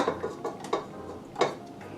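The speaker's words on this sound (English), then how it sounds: "so I'm going to change the paddle to the dough hook" Stand mixer paddle being swapped for a dough hook, several sharp metallic clinks and taps of metal attachments, close by and spaced irregularly.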